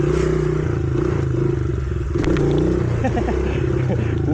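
Motorcycle attempting a wheelie, its engine droning loud and close with a steady rumble that dips briefly midway and then rises again with rattling mechanical clatter.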